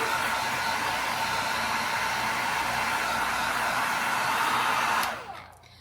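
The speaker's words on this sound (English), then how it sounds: "Now I'm going to take my hair dryer and we're going to dry it for a couple minutes." A hair dryer blows a steady, loud hiss over wet Mod Podge on a tin can craft piece, running continuously before switching off and winding down near the end.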